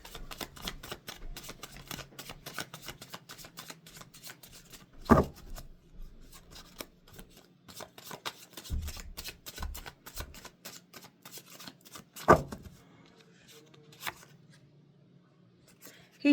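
Tarot and angel cards shuffled by hand, with steady, fast papery riffling and occasional sharper taps and slaps, close and fairly quiet, continuing for a long stretch without speech.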